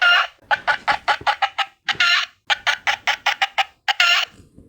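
A plastic toy chicken made in China gives rapid mechanical clucking, loud and close, in two rhythmic bursts of short squawks with a brief gap between.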